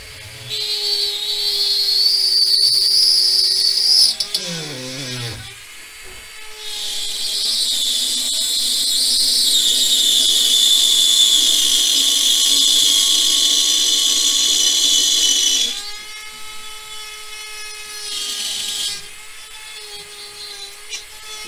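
A small power tool plunged into material to cut a neat hole, high-pitched whirring that runs steadily, drops briefly, then spins up again in a long loud whine before slowing and stopping.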